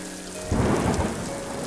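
Cartoon thunderstorm with heavy rain battering a mud hut: steady rain hiss, then a deep rolling thunder rumble breaks in partway through and lingers.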